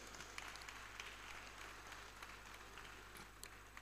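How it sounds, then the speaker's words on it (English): Faint, distant applause from an audience at a tribute and service of songs honouring an emeritus professor, a thin, even clatter of clapping that continues over a low steady hum. "A round of applause, please."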